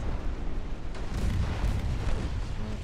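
Torpedo hits exploding against the battleship Bismarck in a naval video game, heard as a loud, continuous low rumble of blasts with a swell near the middle and no talking.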